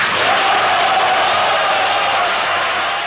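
A large audience breaks into loud, thunderous applause mixed with crowd cheering, a continuous roar of noise that holds steady for several seconds.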